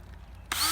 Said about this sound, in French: moi ce que j'aime faire, c'est faire des trous avec une perceuse, d'un assez bon trou, dans mes souches